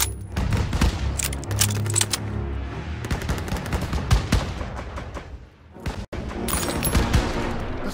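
Dense battle gunfire from Call of Duty WWII, rapid rifle and machine-gun bursts layered with booms, continuous and loud, with a brief lull near the end before the firing resumes.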